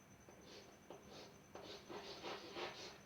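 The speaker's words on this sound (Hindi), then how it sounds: "इसको मैं यहाँ पे लिखता हूँ, देखिए" Chalk or marker scratching across a board during a maths lesson, a few faint short strokes in quick succession, quiet and close with no talking.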